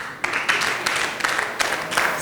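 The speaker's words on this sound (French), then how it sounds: "Et je vous demande d'applaudir pour vous-même." An audience applauds at a French-language talk on technological education, a brief patter of many hands clapping at moderate volume, with uneven bursts throughout.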